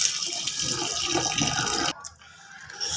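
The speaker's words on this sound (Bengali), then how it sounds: "শাকগুলো ধুয়ে নেব।" Running water pours steadily as spinach leaves are rinsed for cooking, a continuous splashing hiss that cuts off near the end, leaving a quieter trickle.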